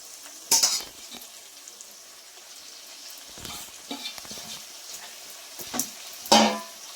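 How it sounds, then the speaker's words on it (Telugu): Washed fenugreek leaves go into frying chicken in a pan for a fenugreek chicken curry. Two loud bursts of sizzling mark the additions, with quieter stirring scrapes and crackles between them. "ఇప్పుడు దీంట్లో మనం కడిగి పెట్టుకున్నాం కదండి మెంతాకు అనేది, దాన్ని వేసేస్తున్నాను."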